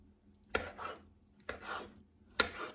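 A knife cuts through eggplant three times at a steady pace, each crisp slice followed by a soft scrape, in a quiet kitchen, gliding through easily.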